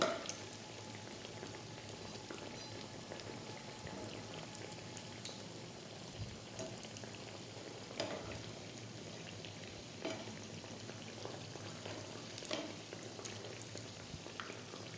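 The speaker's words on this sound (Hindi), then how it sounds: "अब हम इन्हें बीच बीच में पलटते हुए दोनों ओर से गोल्डन ब्राउन होने तक फ्राई कर लेंगे" Potato tikkis shallow-frying in oil, a continuous soft bubbling sizzle with occasional small pops and faint clicks, steady and fairly quiet throughout with no voices.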